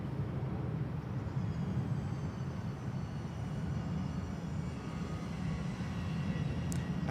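A Thai Smile airliner departs Bangkok Suvarnabhumi Airport, its jet engines making a steady, distant roar that holds at an even level without a break.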